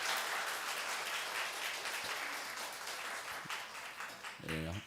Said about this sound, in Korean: 우리 목사님들 힘내시라고 박수 한번 해주시기 바랍니다